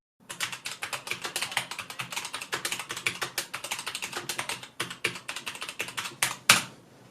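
Steady, brisk typing on a Rapoo V500 RGB keyboard, with dense close keystroke clicks running evenly for several seconds and one sharper clack near the end, with no voices.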